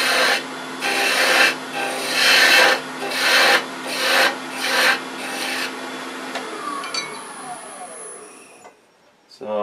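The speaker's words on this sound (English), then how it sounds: "Before I get too thin, I'm going to do a little sanding." A turned wooden acorn box is sanded on a running lathe, with close, rhythmic rasping strokes rising and falling about once a second, then easing off into a fading motor whine as the lathe spins down.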